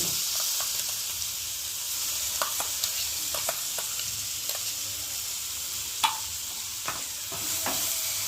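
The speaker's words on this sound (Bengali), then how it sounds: "তেলের সাথে ভালো করে এটাকে ভেজে নেবো" Boiled pea paste frying in oil in a wok, giving a bright, steady hiss with scattered sharp pops and scrapes from stirring, close and fairly loud.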